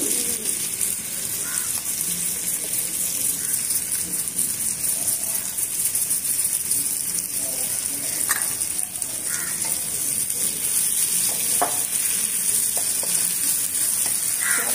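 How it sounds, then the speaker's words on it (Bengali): Steady sizzle of onions frying in a wok fills the whole stretch, with occasional scraping and stirring clicks from a utensil against the pan, close and continuous. "কড়াইতে চিকেনটা ভাজা হয়ে যাওয়ার পরে পেঁয়াজ দিয়ে দিয়েছি।"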